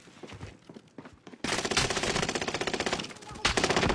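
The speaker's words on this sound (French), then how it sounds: "On tire dessus." Rapid automatic gunfire from the Fortune's Keep video game, starting abruptly after a quieter stretch of scattered sounds and continuing as loud, dense bursts with a fresh volley near the end.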